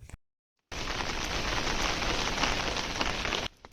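Heavy rain on the Madhmaheshwar trek pours steadily in a dense, even hiss after a brief moment of silence, then cuts off abruptly.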